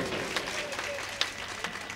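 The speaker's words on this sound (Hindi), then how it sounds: "ये देखिए ताली बजा के बताओ।" An audience at a poetry event claps, a scattered, fairly quiet patter of hands with a few sharper claps standing out.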